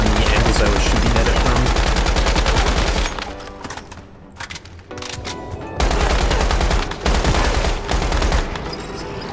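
Rapid video-game gunfire aimed at a mirror enemy that reflects bullets back, dense sustained shooting that cuts out for a couple of seconds, then resumes loud and continuous.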